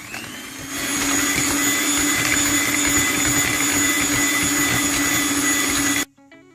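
An electric hand mixer whirs steadily as it beats cake batter with egg and food colouring for cake rusk, a loud continuous motor drone that starts after a brief lower moment and stops abruptly near the end.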